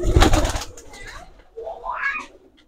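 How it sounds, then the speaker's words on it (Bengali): Golalal high-flying pigeons in a loft give soft cooing calls after a burst of rustling, with voices speaking nearby. "এটা আপনার অনেকে গলালাল বলে, গলালাল কবুতর।"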